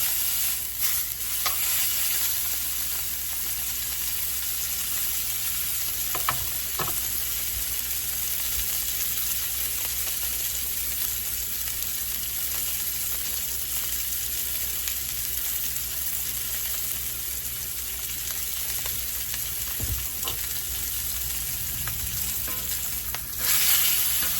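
Venison backstrap searing in a hot pan, a steady dense sizzle with occasional soft clicks and scrapes as the meat is turned, continuous and moderately quiet.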